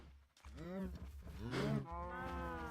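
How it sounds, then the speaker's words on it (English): Several cow moos from the farming game Magic Farm 2, long harmonic calls repeating close together and loud, with no talk over them. "see how the moo cows are doing."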